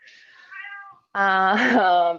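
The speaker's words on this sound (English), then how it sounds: "My cat's gonna help with this. I can hear her." A pet cat meows indoors, first a softer, thinner meow and then, after a brief pause, a louder, drawn-out meow close to the microphone.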